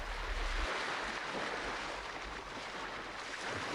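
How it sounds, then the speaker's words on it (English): Ocean waves wash and roar steadily with gusting wind, a continuous dense surf sound without any voices. "As the sound of waves hit his ears, realization struck him."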